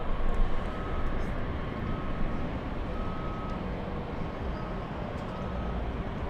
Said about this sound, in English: big plane alert, big plane alert